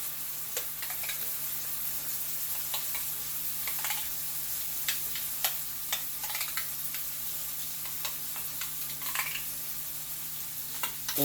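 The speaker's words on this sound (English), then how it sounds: "You're going to mix up our horseradish sauce." Horseradish sauce being stirred in a bowl during a keto French dip cooking session, a steady soft scraping and mixing texture with scattered light clicks of utensil against the dish, continuous and fairly quiet throughout.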